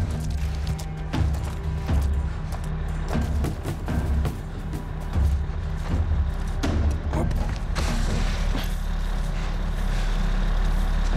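An armored vehicle in The Last of Us on PC drones with a heavy, continuous engine rumble, broken by thuds and clanks, loud and close throughout.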